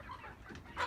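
Broiler and laying hens clucking, a brief burst of close clucks with one sharper squawk at the end, alone without talk.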